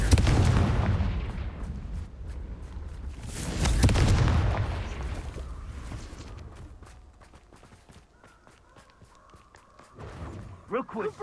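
Confringo fire-blast spell cast during Hogwarts Legacy combat, heard as two heavy booming blasts, one at the start and a second a few seconds later, followed by quieter scuffling game sounds and sharp bursts near the end.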